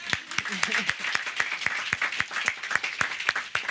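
Audience clapping at a literary conversation event, sharp individual claps from a small crowd in a steady scattered rhythm, close and fairly loud, with a voice speaking briefly underneath near the start.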